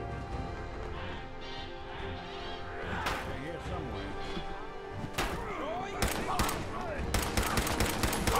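Gunshots in the video game Fallout 4, with several sharp cracks scattered through the stretch and a tight cluster of rapid shots near the end, heard under someone talking.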